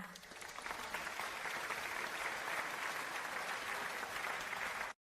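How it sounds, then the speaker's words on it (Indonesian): Enthusiastic applause from a crowd at a corporate gathering in a drama, a dense steady wash of many hands clapping loudly for about five seconds before cutting off abruptly. "kita sambut dengan tepuk tangan meriah"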